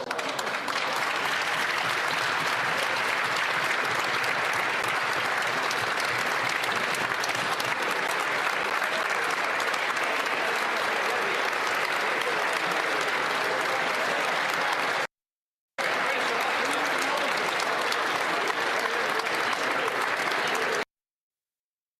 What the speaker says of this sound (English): So we're applauding a library